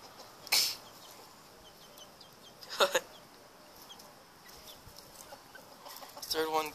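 Chickens cluck in a few short, scattered bursts, some close and some fainter, over a quiet outdoor background, with a longer run of clucking at the end.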